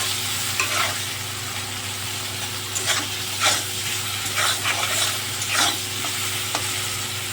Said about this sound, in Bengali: চিংড়ি মাছটা ভালো করে আমি ভেজে নেব।